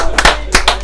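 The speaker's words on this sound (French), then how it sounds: "on l'applaudit." Applause for a contestant on a French radio quiz show: a few loud, close hand claps in a quick uneven rhythm, only three or four distinct strikes within a brief moment.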